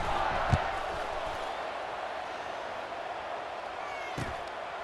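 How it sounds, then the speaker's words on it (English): Football stadium crowd at an Air Force game, a steady broad roar and murmur of many people filling the whole stretch, with a couple of sharp thuds near the start and end. "this crowd is buzzing after that last score"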